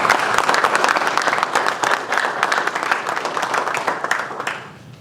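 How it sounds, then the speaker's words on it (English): Applause from people gathered at a Drive Sober or Get Pulled Over news conference, loud, dense clapping that holds steady, then thins and fades near the end. "Let's give them a round of applause."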